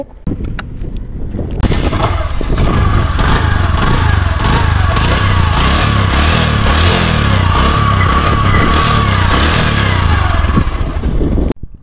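A used Bajaj Discover 125 motorcycle in good condition starts up and then idles loudly and close at a steady, even, chugging rhythm for several seconds before cutting off.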